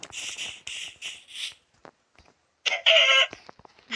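Minecraft chickens cluck in a few short bursts, then a louder squawking call follows after a brief pause, close and clear with no talk.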